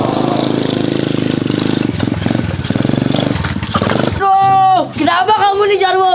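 A new dirt bike engine revs loudly and steadily up close, a dense buzzing drone that drops away near the end, followed by voices and tonal sound over a quieter background.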